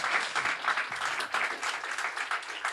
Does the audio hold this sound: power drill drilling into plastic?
no